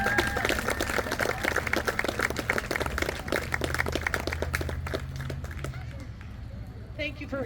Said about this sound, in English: So give these kids another round of applause.